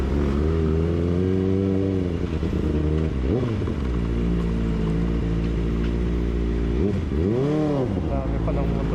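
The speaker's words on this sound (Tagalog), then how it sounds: "Dami palang motor." Cars and motorcycles idle and move around an open parking lot in a steady engine drone, with a couple of nearby revs rising and falling over the rumble while people talk throughout.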